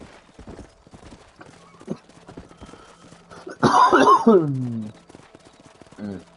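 Horse hooves clip-clop at a steady walking pace in the Western game Red Dead Redemption, with a loud snorting burst from the horse midway and people talking over the hoofbeats.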